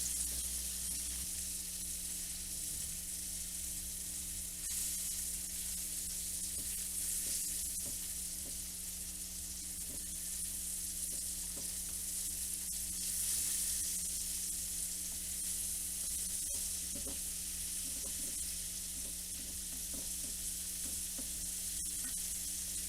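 Chicken nuggets fry in a pan with a steady, close sizzle that runs throughout, and faint clinks and stirring noises come through over the constant crackle of hot oil.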